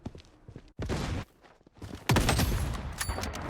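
Sniper rifle shots in the shooter game Blood Strike, loud sharp reports with ringing tails, several bursts spaced apart over a few seconds.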